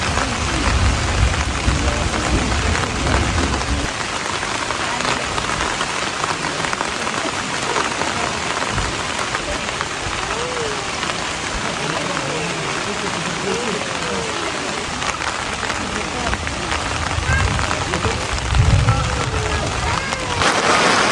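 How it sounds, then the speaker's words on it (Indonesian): Steady rain pours down at a campsite, a dense continuous hiss of drops beating on surfaces, with low thumps and faint background voices mixed in. "Hujannya masih belum berhenti guys."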